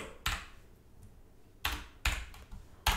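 Keyboard typing a search query for a Xiaomi Mi 9T Pro, a few sharp close keystrokes spaced irregularly over quiet room tone.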